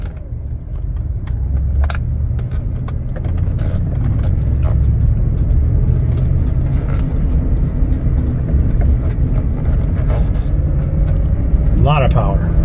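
A 2022 Ford F-350 extended-cab truck with a utility body accelerates in 4x4 low, a steady heavy engine rumble heard from inside the cab with a person talking throughout.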